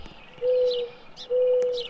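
Two mournful coos from a pair of mourning doves in a Roblox game map, each a steady low hooting note, one after another against faint background birdsong.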